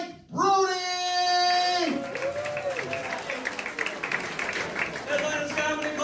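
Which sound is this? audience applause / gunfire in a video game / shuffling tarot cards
audience applause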